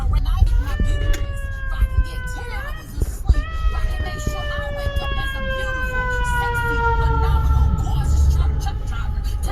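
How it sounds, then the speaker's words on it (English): Fire truck sirens wail in rising and falling sweeps over constant street traffic rumble, starting a moment in, breaking off briefly, then sounding again steadily and fairly near. "And they only turn on the sirens as we got close."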